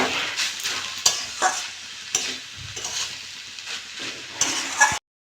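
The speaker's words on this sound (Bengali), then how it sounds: "হলুদ দিয়ে দেবো লবণ দিয়ে দেবো নেড়ে চেড়ে নেবো" Banana stem (thor) fries in a pan with salt and turmeric while a spatula stirs it, giving scraping strokes and clinks at a loose rhythm over a constant close sizzle, ending abruptly.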